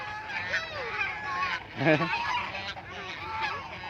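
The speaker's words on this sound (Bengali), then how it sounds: "কেমন করে হাঁসগুলা, কেমন করে, কেমন করে ডাকে" A flock of ducks by a river calls with repeated nasal honking quacks, several birds overlapping close by in a near-continuous chorus.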